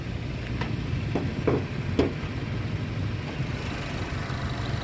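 A 2017 Honda Brio 1.2 RS automatic with a 1200 cc four-cylinder engine idles steadily with a low, even hum, joined by a few light ticking knocks.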